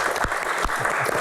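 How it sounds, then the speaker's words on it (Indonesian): Studio audience applause on an Indonesian TV talk show, a short dense burst of steady clapping filling the room with no talk over it. "Tepuk tangan."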